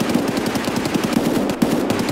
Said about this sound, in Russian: А чё за пушка стреляет?